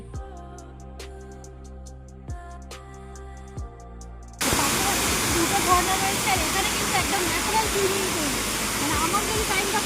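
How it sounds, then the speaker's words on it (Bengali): After a brief stretch of other sound, a small roadside waterfall's steady rushing roar takes over, loud and continuous, like water pouring and spraying nearby. "রাস্তার ধারে ছোট বড় প্রচুর ঝর্ণা কিন্তু আমাদের চোখে পড়ছে"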